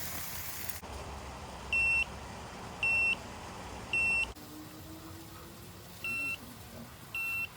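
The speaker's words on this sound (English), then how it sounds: "there's that double buzzer sound indicating that it has met the target" A BFOUR wireless meat thermometer's target-reached alarm sounds in repeated paired beeps, each a short high-pitched electronic tone, with a brief pause between pairs over faint background noise.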